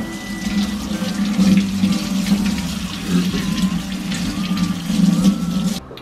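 Tap water runs steadily over a chili pepper that has been slit open and scooped clean of its seeds for stuffing, a continuous close splashing under a faucet for about six seconds with no talking.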